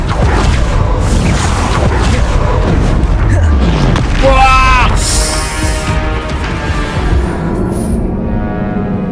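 Spell blasts and booming impacts during spell-casting combat in the game Hogwarts Legacy, with a bright burst midway through a continuous, dense layer of game effects and music while a voice talks over it.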